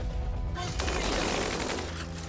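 Gunfire from units in the tactical strategy game Tiny Metal, a dense, loud burst of rapid shots and crackling impacts filling the short moment with little pause.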